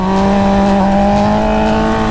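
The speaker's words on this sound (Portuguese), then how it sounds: "Meu primeiro rolê com a minha Repsol! Que moto incrível!" A Honda CBR1000 Repsol sport motorcycle on its first ride gives a loud, close, sustained engine tone that holds steady and shifts slightly in pitch over a couple of seconds, with no talk.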